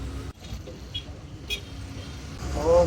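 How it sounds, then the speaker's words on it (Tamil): Dense road traffic in a jam on a main road, a steady broadband rumble of engines with brief horn toots in the middle and a louder horn-like tone near the end, heard close by with no one talking. "ஓ, இந்த டிராஃபிக் ஜாமு"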